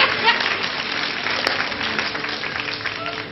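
Studio audience applause in a televised comedy sketch, a dense, steady wash of clapping with a sharp snap midway, heard alone for a few seconds.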